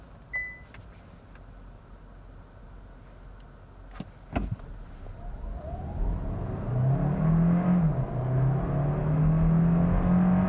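A 2022 Hyundai Tucson hybrid launches from a brake-torque start, its engine note swelling from a low idle into a loud, steady acceleration that climbs and drops briefly at a shift before pulling on, with no talk.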